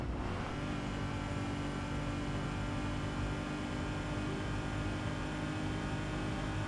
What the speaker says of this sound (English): You can hear the whishes of the turbos